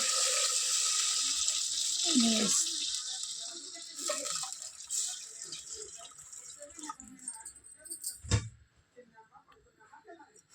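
Water is poured into a cooking pot for chicken bagara rice, a loud splashing pour for the first couple of seconds that tapers into quieter trickles and clinks.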